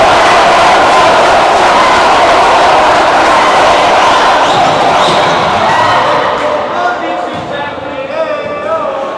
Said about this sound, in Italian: non manca il sostegno delle due tifoserie che si beccano, e ve lo facciamo anche sentire